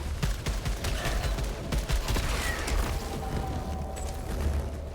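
Rapid gunfire from enemy-shooting combat in the video game Returnal, dense bursts of shots with mechanical clatter running steadily throughout at fairly close range.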